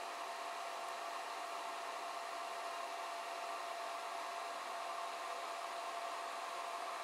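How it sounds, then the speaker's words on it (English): A power supply unit fan runs inside a humidity removal unit, producing a steady, even broadband whoosh with no change throughout, fairly quiet and with no voices. "So most of the fan noise there is coming from that PSU."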